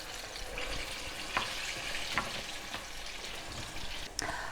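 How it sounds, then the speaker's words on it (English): Steady crackling sizzle of pork deep frying in hot oil, with a few sharp pops and clicks breaking through. "we are going to put them all now in the fryer for another couple of minutes"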